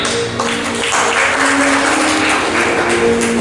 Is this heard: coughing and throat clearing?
no